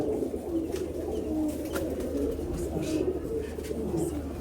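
A high-flying Naptha pigeon coos in low, repeated throaty rolls, steady and close, with other birds murmuring softly around it inside the loft.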